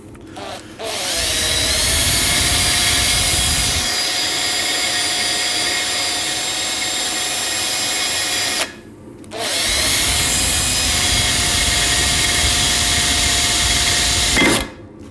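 A power drill bores with a drill bit while building a waste oil burner, running as a loud, sustained high whine for several seconds, cutting out briefly, then starting again before stopping.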